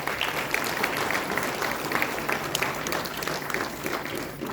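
An audience at a retirement ceremony at IVRI Bareilly applauds, with steady, dense clapping from many hands filling the whole stretch at moderate loudness.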